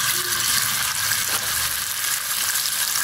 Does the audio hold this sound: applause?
no